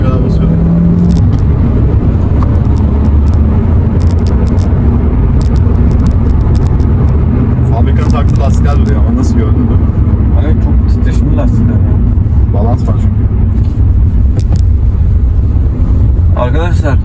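A Fiat Egea with the 1.4 Fire engine drives hard in a handling test, its engine and road noise a loud, unbroken rumble heard from inside the car, with people talking over it throughout.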